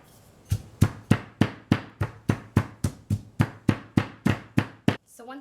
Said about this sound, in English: pound these ingredients down until they're finely crushed